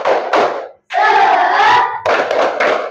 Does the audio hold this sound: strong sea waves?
no